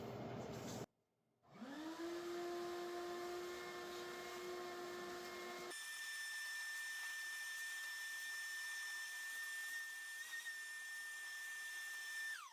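A shop vacuum runs loud and steady as it clears sawdust and debris from inside a used DeWalt table saw, its motor winding up to a whine, cutting briefly, then restarting at a higher pitch and holding until it spins down at the end.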